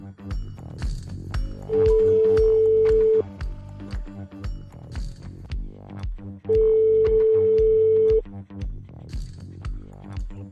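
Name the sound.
telephone call ringing on radio show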